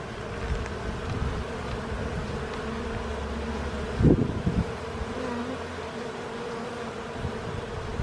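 Honeybees buzz around an open hive during an inspection, a dense, continuous close hum with a brief louder rustle partway through.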